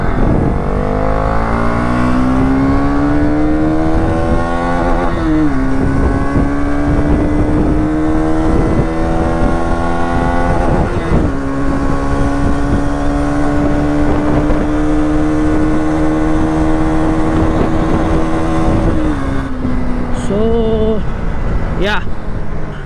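A close Bajaj Pulsar NS 200 BS6 motorcycle engine drones steadily with slight shifts in pitch as it rides along a road, loud and continuous throughout.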